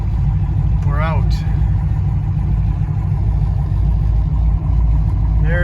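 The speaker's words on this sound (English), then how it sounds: "65 Plymouth Belvedere. I'm gonna let it warm up a little bit." A 1965 Plymouth Belvedere, just brought out for the first time in the year, idles steadily as it warms up, its engine a loud, even rumble up close while someone talks over it.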